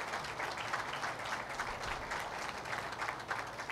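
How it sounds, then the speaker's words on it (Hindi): Congregation clapping during an Urdu church sermon, a faint, distant and steady patter of applause lasting a few seconds with no talk over it. "इनके लिए ज़ोरदार तालियां बजाएं, आप बजाएंगे इनके लिए, बजाए तालियां इनके लिए।"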